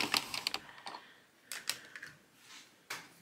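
An Addi knitting machine is cranked to knit rows, giving quiet, close mechanical clicks and rattling in short uneven bursts separated by brief pauses.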